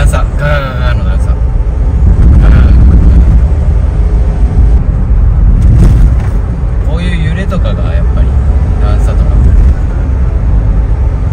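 A Happy1+ kei camper van rattles and thumps over a series of road bumps, loud low rumbling jolts with steady road noise from inside the cabin.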